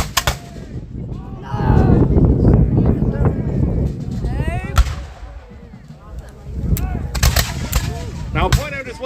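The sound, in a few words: musket and artillery fire at War of 1812 reenactment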